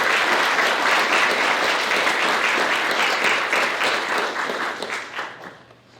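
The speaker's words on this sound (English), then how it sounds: "If we could just have a short round of applause." An audience gives a short round of applause for panelists at a discussion event, dense steady clapping throughout that gradually thins and fades out toward the end.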